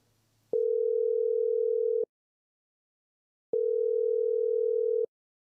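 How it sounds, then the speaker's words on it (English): A telephone ringback tone after dialing sounds twice: two steady, even-pitched buzzing tones of about a second and a half each, separated by a pause of silence, heard clearly and alone. "listened to the ringing tone"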